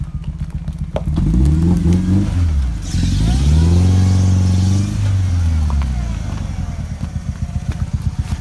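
A two-wheel-drive Ford Ranger pickup revs hard while turning around on an off-road trail, its engine note rising and falling through several loud surges before settling back to a rough idle.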